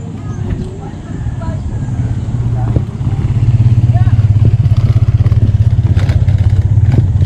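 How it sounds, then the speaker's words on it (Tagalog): Motorcycle engines idle and rev close by at a riverside camp on the Agos River in Tanay, Rizal, settling into a steady, rattling putter that grows louder midway, with some background chatter. "Guys, ito yung mga motor namin guys."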